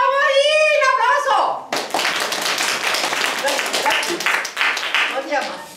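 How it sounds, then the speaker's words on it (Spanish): Studio audience on a Spanish TV quiz show breaks into sustained clapping after a voice, with scattered claps and cheering continuing under brief chatter. "¡Aplauso!"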